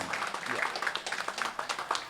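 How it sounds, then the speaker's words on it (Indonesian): Audience applause at a neighbourhood security post event in Pati, Central Java, a soft scattered patter of clapping, distant and faint, with voices faintly mixed in. "Sebelumnya kita aplaus tepuk tangan yang meriah kepada petugas Pos Satkamling"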